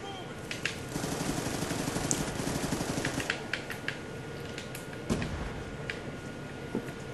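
Gunfire in Black Ops 2 on the Nuketown map, rapid bursts of automatic shots rattling in quick clusters with scattered single cracks, at moderate loudness.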